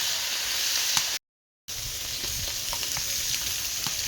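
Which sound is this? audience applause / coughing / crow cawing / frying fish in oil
frying fish in oil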